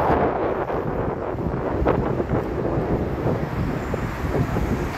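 Strong, dusty morning wind roars steadily against the microphone, a dense continuous rumble with gusty swells and no voices.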